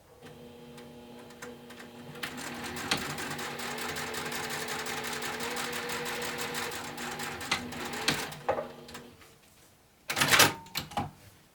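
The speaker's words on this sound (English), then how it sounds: "I'm going to top stitch along the top" A sewing machine topstitches along the folded top edge of a fabric pouch, about an eighth of an inch in, with a close, steady whirring run carrying faint ticks. It stops, and after a quiet gap comes a brief clatter.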